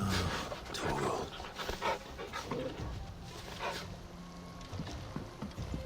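Torgal, a dog in the video game Final Fantasy XVI, pants in steady rapid breaths close by, over a busy background of game sounds and ambience.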